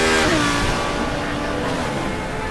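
An Audi race car engine in a racing video game drones loudly and steadily, its pitch holding high with a slight dip, sounding close throughout.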